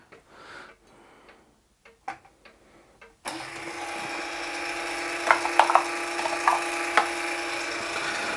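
A Mk2 can crusher crushes Red Bull cans, starting with quiet scattered clicks and taps before a steady mechanical whir sets in with sharp crunching hits layered over it, close and moderately loud.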